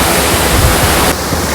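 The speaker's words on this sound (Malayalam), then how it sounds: "ഇതാണ് ഗൈസ് ഇവിടുത്തെ ട്രിപ്പിൾ വാട്ടർഫോൾസ്" Triple waterfalls in Munnar, a loud dense roar of rushing water filling the whole clip, close and steady.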